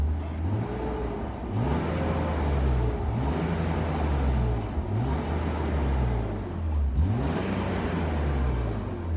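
A 1997 BMW Z3 2.8 roadster with a five-speed manual runs close by with a steady low engine hum, its pitch dipping and recovering in a few slow swells, with no voices.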